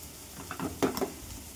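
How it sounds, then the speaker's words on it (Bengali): Bitter gourd and potato slices frying in a pan, a soft sizzle with a few quick stirring scrapes and clinks clustered in the middle, faint and close. "আমার এখানে রান্না হচ্ছে উচ্ছে আলু ভাজা"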